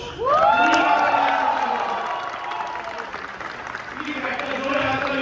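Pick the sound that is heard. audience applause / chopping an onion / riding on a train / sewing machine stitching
audience applause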